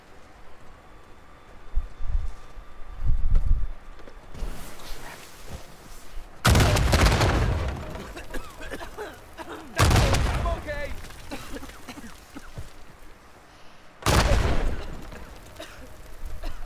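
Three loud, broadband explosion blasts in Uncharted 4, spaced a few seconds apart, each with a rumbling tail, with low thumps and quieter game noise between.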